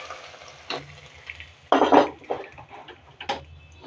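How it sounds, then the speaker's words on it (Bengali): Radish greens stirred into a pan with a fenugreek-seed tempering, a few soft scrapes and clatters of a utensil against the pan with a brief louder stir, close and fairly quiet, no talking. "একটু মেথি ফোড়ন দিয়ে দিলাম। তারপরে ওই যে শাকের সাথে ছেড়ে দিলাম।"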